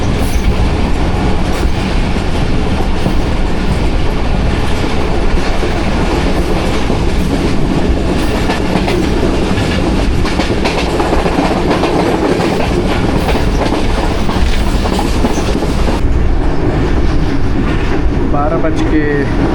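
Train running through Dina station, a loud sustained rumble of wagons with brisk rhythmic wheel clatter and faint squeals, heard from on board with some talk mixed in.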